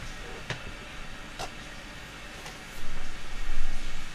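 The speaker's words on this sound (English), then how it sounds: "Sorry about the noise. That's just the shower." Shower running in a home bathroom, a steady broadband hiss of falling water throughout, swelling louder near the end, with a few faint knocks.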